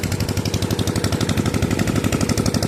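A machine running right after start-up, a loud, close, rapid rhythmic pounding like an engine or hammering mechanism, steady pulses without talk.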